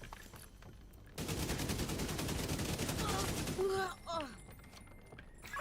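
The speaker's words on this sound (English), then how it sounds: "What are you shooting at?" Rapid gunfire in a player-versus-environment shooter game, a sustained dense burst of shots lasting several seconds, loud and close, with brief game voice fragments near the end.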